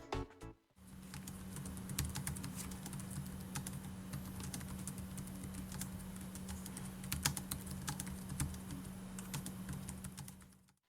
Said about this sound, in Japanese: まずはキーボードの打鍵音をお聞きください。